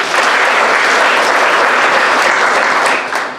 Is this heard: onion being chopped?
no